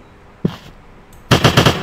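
Rapid automatic machine gun fire in the mobile shooter game American Block Sniper Survival: a single sharp shot, then a close, loud, fast burst of rattling gunfire.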